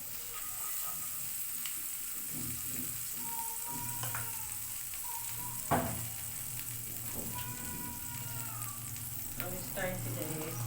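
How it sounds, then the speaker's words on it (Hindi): A few spoons of oil heating in a pan on a home stove for vegetable spaghetti, giving a faint, steady sizzle with light clinks and a voice talking over it. "अब हमने पैन रखा ऊपर दोबारा और इसमें डालते हैं थोड़ा सा ऑयल"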